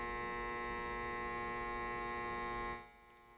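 A steady mechanical pump hum drones loudly and evenly, then drops off sharply near the end, leaving a quieter background.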